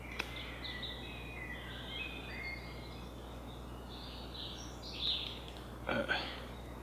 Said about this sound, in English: to the birds, you know, it's a territorial thing, and they're shouting to other birds